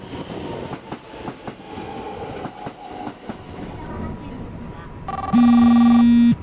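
Rhythmic clacking of train wheels over rail joints inside a moving carriage in Yokosuka, ending with a loud steady electronic tone.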